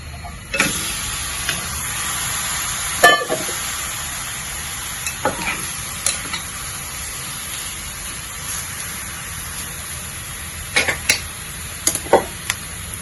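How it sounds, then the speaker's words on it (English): Soft, steady sizzling of pork frying in a pan, with occasional clicks and clinks of a utensil stirring. "Now put in all our pork."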